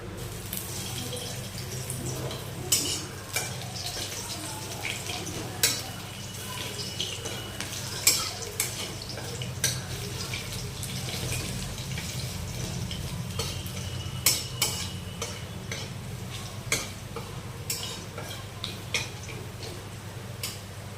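Crushed garlic frying in a pan, a steady low sizzle under repeated sharp clicks and scrapes of a spoon against the pan, close and uneven in rhythm, with no talking.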